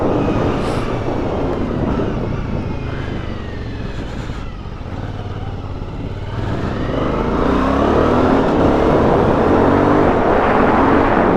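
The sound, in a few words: motorcycle accelerating, engine revving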